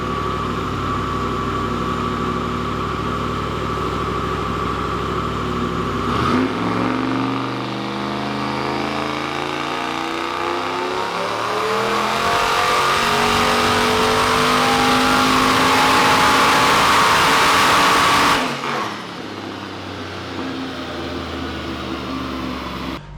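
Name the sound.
boosted iron-block LS engine running on E85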